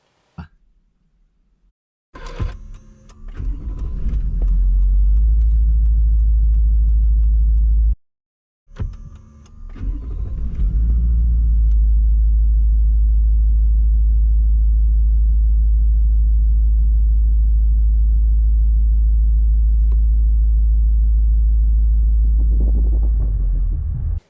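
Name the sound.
car engine starting and running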